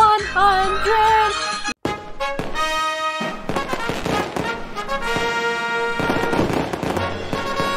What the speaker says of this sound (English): Why are there fireworks in the sky?